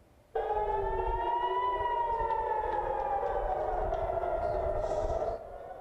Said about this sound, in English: You can hear the air raid sirens